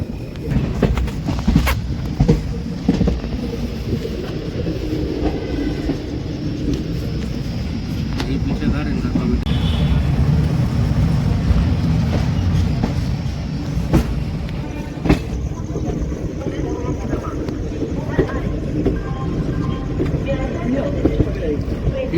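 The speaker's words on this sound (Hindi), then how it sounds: "ट्रेन हमारी पहुंच रही है वीरांगना लक्ष्मी भाई जंक्शन रेलवे स्टेशन" Gomti Sagar Express 16094 pulling into Virangana Lakshmibai Junction railway station, a steady low rumble of wheels and carriages rolling along continuously with station ambience and a voice talking over it.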